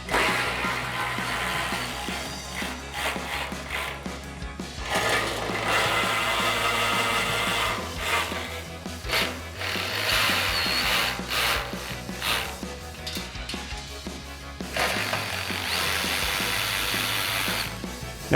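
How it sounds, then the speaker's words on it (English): Ratchet and sockets, a 4mm Allen bit and a 10mm socket, loosening the four bolts holding the fog light screens on a 2020-2023 Chevrolet Silverado 2500 bumper, with steady clicking and rubbing mechanical noise throughout. "grab a 4mm Allen socket on our ratchet and a 10mm socket on a ratchet and get all 4 of the bolts off"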